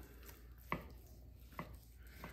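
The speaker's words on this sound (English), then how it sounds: "follow out with the top of our knife, and we're just gonna cut straight down" A knife cutting straight down through raw New York strip steak, giving two crisp, close chopping knocks about a second apart over a quiet background.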